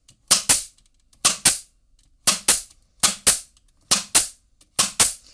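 A pneumatic nail gun set to rapid fire drives nails into plywood, sharp loud paired cracks repeating in six evenly spaced double bursts about a second apart with silence between.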